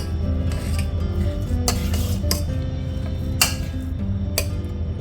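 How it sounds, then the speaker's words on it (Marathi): Shrikhand ingredients mixed in a bowl, with a spoon scraping and clinking against the bowl in irregular ticks over a steady low hum, no talking. "हे बघा असं पूर्ण हे आहेत ना चांगलं मस्त मिक्स करून घेऊ"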